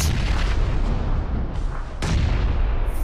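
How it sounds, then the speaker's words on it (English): Grenade explosions in the PUBG battle royale game during an esports match: dense, loud booming blasts with deep rumbling low end, two or three overlapping hits in quick succession. "Throwing down the first nade."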